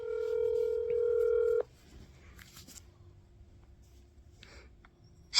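A telephone sounding a steady multi-tone signal for about a second and a half, then cutting off to quiet room noise with faint clicks, ending in a brief loud burst.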